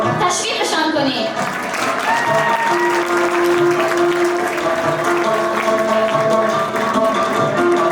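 Audience at a lecture applauding a speaker, steady loud clapping from many hands throughout, with a sustained tone or voice riding over it near the middle.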